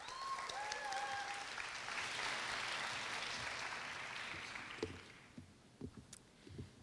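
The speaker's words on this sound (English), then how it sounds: "Let's welcome her with a round of applause." Audience applause fills a graduation ceremony hall at Korea University's 2018 ISC pre-college program, a dense sustained clapping that tapers off into scattered claps near the end.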